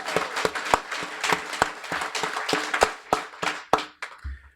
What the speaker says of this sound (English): So warm round of applause for Ann and her efforts.